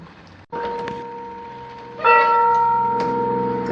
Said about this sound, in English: That's the original bell. It's older than the Liberty Bell.